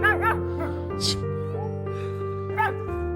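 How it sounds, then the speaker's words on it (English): A dog gives a few short, high yips and whimpers in quick bursts, close by, over a steady musical background. "What is that bark?"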